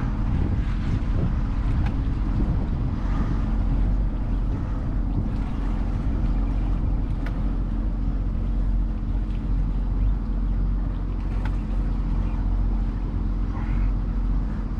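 A Sea-Doo Switch Sport pontoon boat turns under throttle on open water, its engine droning beneath heavy wind buffeting and the wash of water against the hull.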